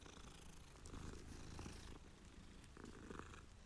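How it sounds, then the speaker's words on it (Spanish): A kitten purrs steadily and close by in the video game Hogwarts Legacy, a soft continuous rumble that carries alone with no talk over it. "Hola, gatito."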